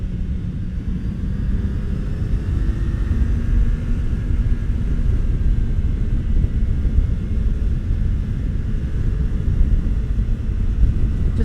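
Kawasaki Z900RS Cafe motorcycle (2019) engine droning steadily while shifting down through the gears, a continuous loud low rumble with wind noise and no talking.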